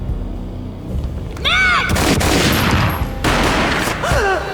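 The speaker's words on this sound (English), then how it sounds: "A gunshot boomed and she fell down in slow motion." Gunfire in the video game Max Payne: loud booming shots and dense rumbling blasts in slow-motion game audio, with whooshing swept tones around them, no talking.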